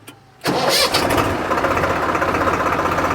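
A Swaraj 735 FE tractor engine cranks and fires after a brief quiet moment, then settles into a loud, steady diesel idle with a rhythmic, slightly knocking chug close by.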